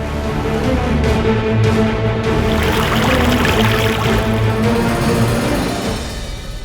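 Water is poured in a continuous splashing stream, loud and close, flowing steadily for several seconds before easing slightly at the end.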